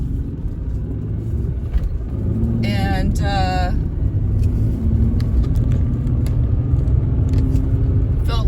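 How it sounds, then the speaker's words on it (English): Cars pass on a road near an off-grid campsite, a continuous low rumble of traffic swelling and easing, with a brief tonal whine from a passing vehicle midway; a voice speaks briefly. "I could still hear cars"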